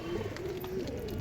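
A pigeon of a fancy breed kept for sale cooing softly nearby, a low wavering murmur under light background noise.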